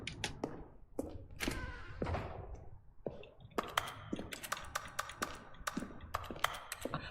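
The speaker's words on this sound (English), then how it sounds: "I love how it's still keyboard sounds." Keyboard typing in The Stanley Parable, a run of close, sharp key clicks and taps in uneven bursts, with a brief pause before faster clattering resumes.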